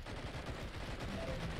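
Rapid gunfire in a video game, aimed at a blimp, rattling as a dense continuous burst of shots throughout, loud and close with no talk over it.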